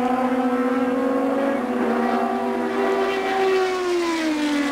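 Race car engines scream along Fuji's 4.41 km circuit late in a 250 km race, with a red machine running at a good pace. A continuous loud tone slowly falls in pitch as a car passes and fades, with no speech.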